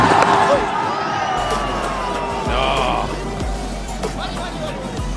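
A cricket stadium crowd during a 2007 India vs South Africa one-day international lets out a loud collective groan of disappointment, a broad roar of voices, with a man exclaiming briefly over it.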